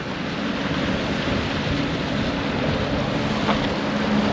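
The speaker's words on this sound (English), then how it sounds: "the old bay cruiser coming in and out of the creek." An old bay cruiser motoring in and out of a creek near Wynnum, heard as a steady broadband wash of engine, water and wind noise holding at an even level throughout, with no talking.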